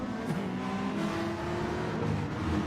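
Race cars surging away from a standing start at Suzuka Circuit in Gran Turismo, a dense, steady blend of engine drone and rising revs from a full field, loud and continuous with no talk.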